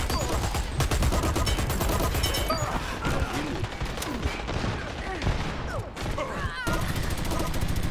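Rapid gunfire from a pistol in the online shooter Dirty Bomb, set in a train yard map, crackling in dense repeated bursts with other weapons and players' voices mixed throughout.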